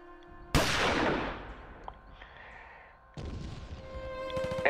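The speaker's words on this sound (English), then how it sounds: "Then the shot rang out." A single sharp gunshot cracks out close and loud, then a long decaying reverberant tail, followed by a swell of steady ambient tones.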